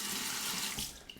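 A bathroom tap runs strongly while a shavette straight razor is rinsed mid-shave, a loud close rushing hiss of water that tapers off over about a second.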